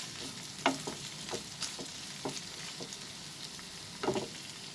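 A chicken and French beans stir fry with sweet corn being tossed in a pan: soft continuous frying hiss under a run of intermittent spatula scrapes and clinks, close and moderately quiet, with nobody speaking.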